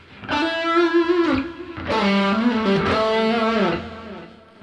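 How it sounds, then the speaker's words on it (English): An electric guitar plays with a delay effect added, giving two loud sustained phrases of bending, gliding notes whose echoes trail off into silence. "Bring in some delay."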